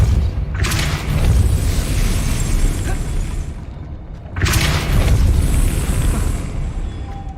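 Two loud, booming Depulso spell blasts in Hogwarts Legacy, each bursting out suddenly and rumbling for a few seconds before fading, spaced about four seconds apart.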